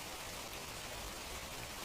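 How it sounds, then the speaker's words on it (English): Steady rain falling on a surface, a dense continuous hiss that stays even and fairly faint throughout, with no other sounds. "It is raining."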